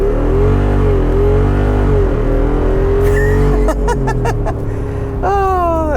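A Jeep Wrangler 392 V8 roars loudly at full throttle in 4Auto, rising steadily as it accelerates, and its tires briefly squeal and spin partway through.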